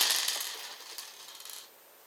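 Small Bolt Action order dice rolling across a tabletop, a rapid clatter of light plastic taps that bounce and settle after about a second and a half, close and alone.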